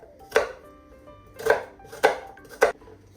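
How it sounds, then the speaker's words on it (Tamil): An onion is chopped in a manual chopper in four sharp, close clacks, the first alone and then three more in a quicker, uneven run, each one short and crisp against a quiet background. "வெங்காயத்தை வந்து இந்த சாப்பர்ல வெட்டி கொள்ள போறேன்"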